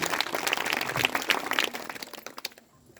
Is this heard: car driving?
no